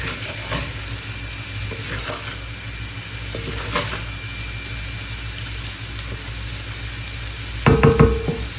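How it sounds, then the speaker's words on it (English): Rice parches and sizzles in a hot pan for Guyanese-style fried rice, with scraping stirs at intervals and a louder clatter of stirring near the end, steady frying underneath. "And then you start stirring it up again, so the others can also start parching."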